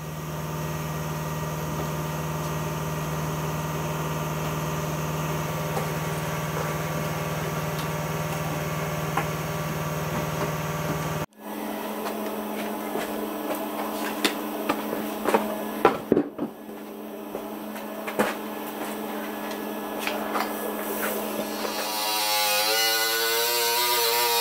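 A metal cutting tool buzzes continuously while cutting sheet metal on an Audi 200 Quattro body panel, a steady close electric drone that stops abruptly, then resumes with scraping and clicks.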